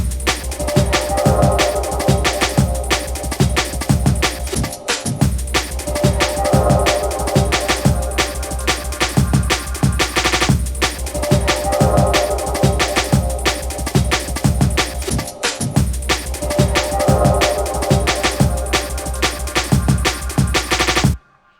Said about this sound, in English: So the original drum loop that I made sounds like this.